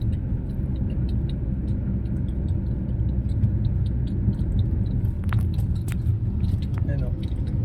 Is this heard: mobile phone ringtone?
no